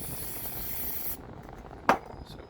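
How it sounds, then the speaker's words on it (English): Carburetor cleaner sprayed from an aerosol can onto a small lawn mower pickup screen, a steady close hiss for just over a second that cuts off, followed by a brief sharp spray burst and a short faint puff. "You guessed it, with the carburetor cleaner."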